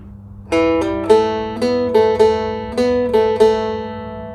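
A phin lute plays a short low-register phrase of the old long-drum procession folk melody (Lai Hae Klong Yao): about nine plucked notes in a lilting rhythm over a sustained low drone, close and clear.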